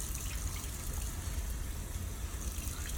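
Tap water runs steadily into a basin to rinse it out, a continuous loud gushing splash close by with no pauses.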